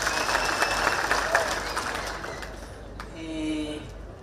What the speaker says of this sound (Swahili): Makofi kwa waheshimiwa wetu.